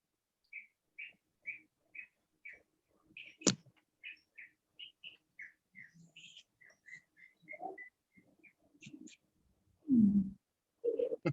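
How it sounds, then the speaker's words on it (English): A bird in New Zealand gives a long run of short, clear whistled chirps, spaced evenly and then quickening, with faint voices and a few low thumps in the background. "Is that a bird?"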